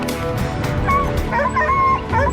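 Hunting dogs bay and yelp at a wild boar in a loud, overlapping chorus of barks and whines, close and continuous.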